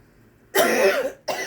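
A person gives one forceful cough, then a brief second cough after a short pause, close and loud with no talking.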